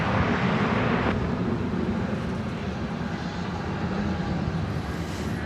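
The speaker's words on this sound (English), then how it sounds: "You're about to see American Flight 1578 going by on its way off to Minneapolis-St. Paul, 737-800" An American Airlines Boeing 737-800 passes by at DFW Airport, a steady, loud broadband jet roar that holds throughout with no talk.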